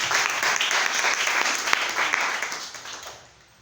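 A church congregation applauding in praise, a dense burst of many hands clapping at once that holds steady, then fades out toward the end.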